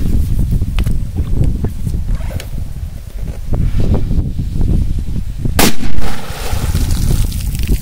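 A sharp firecracker blast on the surface of a river around the middle of the clip, a loud crack followed by splashing and rumbling noise outdoors.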